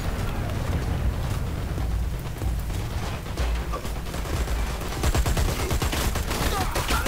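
Rapid gunfire from fire support in the shooter game Dirty Bomb pounds as a dense continuous barrage of overlapping shots, loud throughout and heaviest in the last two seconds.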